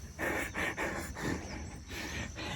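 Heavy, rhythmic panting while hiking up Mt. Batulao, each breath a rough burst of air about twice a second, close to the microphone with steady background noise.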